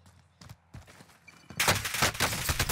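Gunfire in the video game Warzone, a few scattered shots and footsteps at first, then a dense, loud burst of rapid automatic fire.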